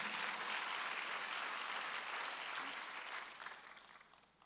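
Sustained church congregation applause during a Sunday service, dense and steady clapping that gradually thins out and fades toward the end.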